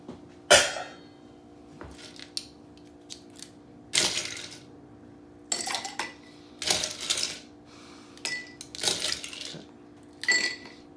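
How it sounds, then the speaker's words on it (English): Ice cubes clatter and clink into a cocktail glass behind a bar while mixing an Irish Bloody Bull, in several bright, irregular bursts of rattling with short pauses between, close and fairly loud. "Let's put ice in this glass here."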